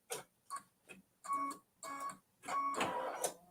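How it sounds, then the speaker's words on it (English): An embroidery machine stitches flowers onto a Kimberbell mini quilt, producing quiet, rapid ticking bursts in short clusters separated by brief pauses, with a longer busier run of stitching at the end. "So we're stitching the flowers 1 fringe."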